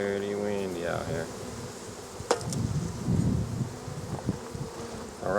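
Honey bees buzz thickly around a hive on a windy day, a constant near drone with a few sharp knocks and clicks of handling and wind gusts mixed in.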